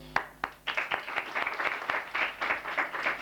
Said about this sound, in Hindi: आप सबने तालियां बजाई